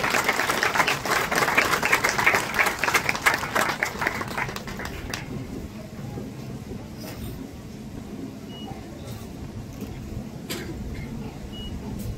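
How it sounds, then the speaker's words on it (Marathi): An audience at a village school ceremony applauds a teacher, with dense clapping for about four seconds that thins out into scattered claps and quiet room noise. "टाळ्या वाजून आपण त्यांचं अभिनंदन करूया"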